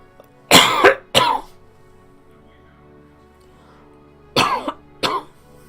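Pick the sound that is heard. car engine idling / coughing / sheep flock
coughing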